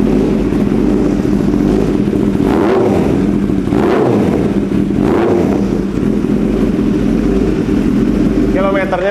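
A Kawasaki Ninja with an Austin Racing exhaust idles loudly up close, its engine blipped into several sharp revs that swell and fall, with a constant deep exhaust rumble throughout.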